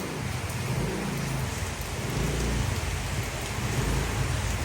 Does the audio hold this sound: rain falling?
yes